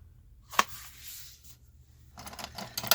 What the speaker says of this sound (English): I just take them and I fold them in half.